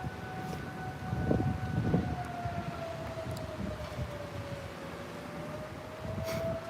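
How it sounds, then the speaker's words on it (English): A Pennsylvania fire whistle wails from a distance, one long steady tone that slowly falls and rises again, faint against outdoor background noise. "No, that isn't a tornado siren. That's just a PA fire whistle."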